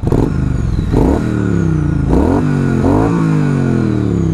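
A Triumph Street Twin motorcycle engine revs loudly and close by, rising in pitch several times and dropping back between throttle blips over a deep, rumbling idle.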